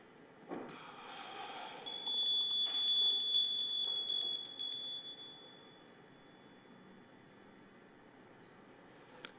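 A single bright bell is struck and rings clearly, its shimmering tone hanging for a few seconds before fading into a quiet room.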